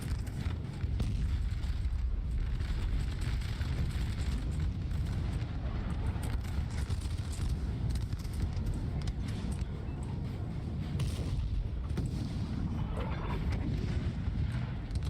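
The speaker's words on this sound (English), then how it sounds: "All of this cav in the reserve has been getting shelled the entire time." Continuous rumbling artillery shelling and booming explosions blend into a dense, loud battle din throughout a Napoleon: Total War multiplayer battle, with no talk.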